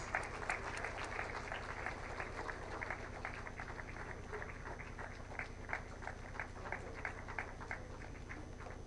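Audience at a national intellectual property awards ceremony applauding the awardees, a sustained wash of many hands clapping at a distance, steady and moderately faint throughout.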